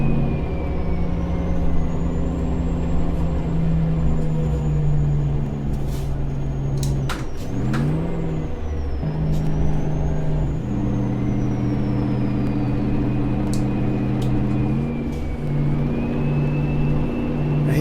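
A Mack RD800 semi truck in American Truck Simulator drones along with a continuous, loud engine rumble that rises and falls in pitch, broken near the middle by brief hissing air-brake releases.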